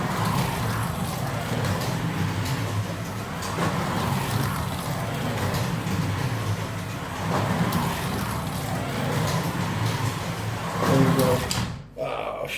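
Carrera Digital slot cars fitted with Slot Invasion guides lapping a track, a continuous whirring motor drone that swells and fades as they circle, with a voice talking over it.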